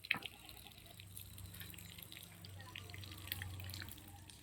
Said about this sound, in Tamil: ஸோ உருளைக்கிழங்கு வச்ச தண்ணியை வந்து பார்த்தீங்கன்னா வடிகட்டிடலாம்